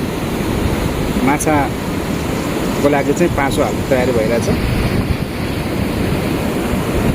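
River water rushes in a steady, loud roar at a riverbank where fish traps are being set, continuing throughout while someone speaks over it.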